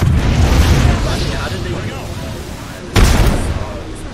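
Grenade blast in Apex Legends: a rumbling boom under a speaking voice, then a second sharp, loud burst about three seconds in that decays over the final second amid game noise.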